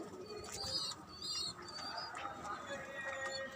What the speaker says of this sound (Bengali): এটা আছে কবুতর,